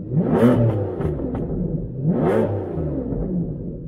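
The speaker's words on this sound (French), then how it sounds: "On profite des vocalises du V12 évidemment." A powerful V12 car engine revs twice, each rev rising sharply then falling back into a rough, throaty idle, close and loud with no talking.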